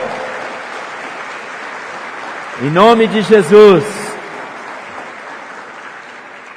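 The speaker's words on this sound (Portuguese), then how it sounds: "Você pode aplaudir o Senhor?" A church congregation claps steadily as sustained applause fills the room, while a preacher speaks loudly over it in Portuguese in the middle.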